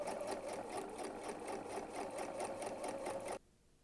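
A sewing machine runs steadily, stitching a long chain of quilt squares for a chevron stripe quilt top, its fast even whir continuing close and loud before cutting off abruptly near the end.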